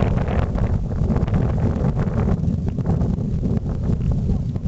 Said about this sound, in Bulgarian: И вятър. Свири яко. И духа яко и е студен.